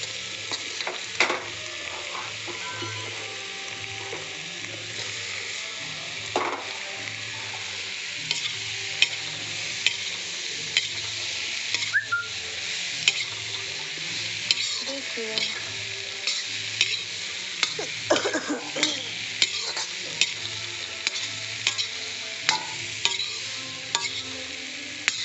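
Boiled potatoes are stirred into a tomato masala, frying with a steady sizzle while a spoon scrapes and clatters against the pan in irregular strokes.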